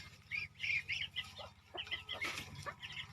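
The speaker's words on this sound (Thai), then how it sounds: "ไก่จังโตวะ" A big farmyard chicken gives a run of clucks, and other fowl call faintly around it, all close and fairly quiet.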